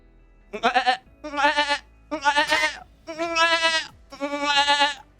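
A person imitating a goat scream, five loud, close, quavering bleats separated by short pauses.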